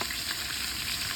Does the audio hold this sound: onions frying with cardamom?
yes